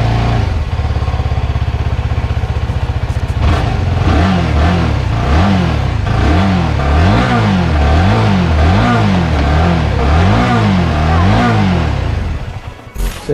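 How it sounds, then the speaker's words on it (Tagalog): A motorcycle engine, damaged after water got inside, revs loudly and close in repeated rising and falling surges, steady throughout before cutting off at the end. "yun guys, ito na yung motor natin"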